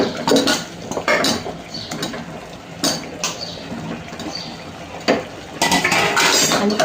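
Jackfruit pieces stirred into oily masala in a cooker pan: repeated metal spoon scrapes and clinks against the pan in uneven bursts, close and clear, with no talk.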